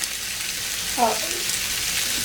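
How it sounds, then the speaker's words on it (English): Pork belly crisping in a hot pan gives a steady, soft sizzle that hisses through the whole stretch, with a brief fuller crackle about midway and no voices over it. "You can start to hear it sizzling a bit there"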